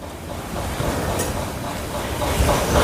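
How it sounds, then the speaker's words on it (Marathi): A mixer grinder whirs steadily, grinding cooled roasted spices into a coarse masala, a continuous rushing drone that swells slightly louder toward the end, with no voices. "आता हा थंड झालेला मसाला मी मिक्सरमधून फिरून घेते"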